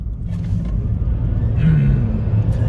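A Rivian R1T electric pickup truck punching hard from about 10 mph on a winter road, giving a steady loud rumble of tires and motor whine inside the cab throughout.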